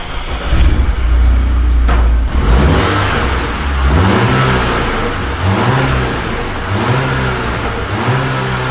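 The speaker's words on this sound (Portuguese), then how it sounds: "Se liga aqui pra vocês verem o jeito que tá o barulho do Audi agora." An Audi car engine revs hard through its exhaust, a loud close roar that climbs and falls in repeated pulls, with a steady rumble at idle between the revs.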